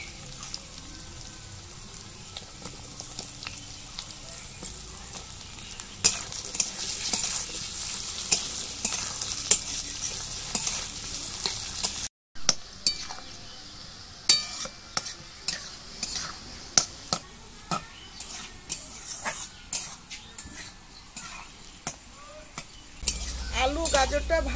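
Chopped carrot and potato stir-fried in a pan for masala rice: a steady sizzle with the scrape and clack of a stirring utensil, fairly close, and no voices.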